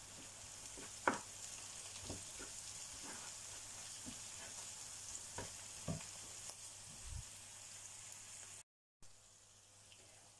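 Chopped onion fries quietly in a pan with a faint, steady sizzle, broken by occasional soft taps and clicks of a utensil and a brief silent gap near the end.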